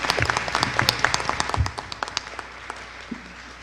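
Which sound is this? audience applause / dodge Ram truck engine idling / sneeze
audience applause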